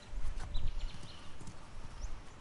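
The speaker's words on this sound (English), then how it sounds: "We have a horse" A horse in Uncharted: The Lost Legacy clip-clops along, a soft run of hoof falls close by over a low rumbling game background, with an occasional faint snort.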